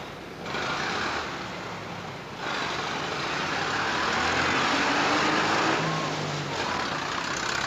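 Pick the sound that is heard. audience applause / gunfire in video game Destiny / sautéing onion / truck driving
truck driving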